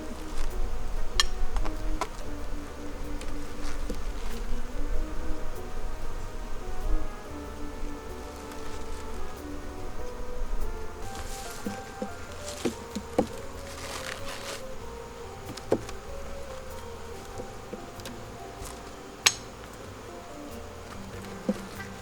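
Honey bees buzzing at a weak second beehive, a close, continuous drone with occasional louder passes of individual bees and small ticks and knocks throughout.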